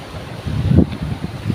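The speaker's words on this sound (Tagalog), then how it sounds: "Grabing lalaki ng alon sa laot." Big ocean waves rolling out at open sea, a broad low wash with wind noise, swelling to a louder surge in the middle and then settling into a steady rumble.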